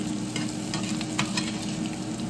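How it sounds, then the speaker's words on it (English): Radishes and potatoes frying at medium-high heat for low-carb hash browns, a dense close sizzle with soft stirring scrapes throughout, no speech. "put the radishes and potatoes in for our hash browns. Just stir this in good. And this will cook for 5 or 6 minutes."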